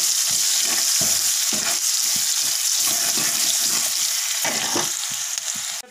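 Finely chopped onion frying in a kadai, a loud, steady sizzle that fills the whole span while a spoon stirs and scrapes the pan in quick repeated strokes, close up and with nobody talking.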